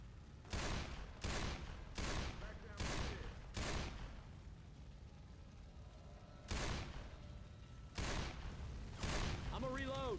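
Bursts of gunfire from Left 4 Dead 2 zombie-horde play, about seven separate loud volleys of rapid shots spaced a second or two apart, with faint game noise and a short voice-like sound near the end.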